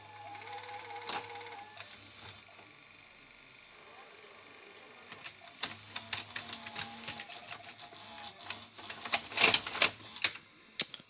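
A Toshiba V855F VCR's tape mechanism runs after a capstan belt replacement, with a faint motor whir under clicks and clunks that grow busier and louder toward the end.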